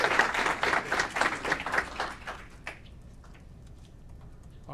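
An audience at an Aurora city council meeting claps for a Senior Shovel Program volunteer, a short burst of moderate applause that fades within a few seconds into quiet room tone with a few stray claps.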